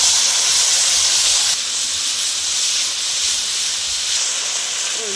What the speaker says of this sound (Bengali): মশলাটা কষানো হয়ে গেছে তেল ছেড়ে মশলা দিয়ে দিলাম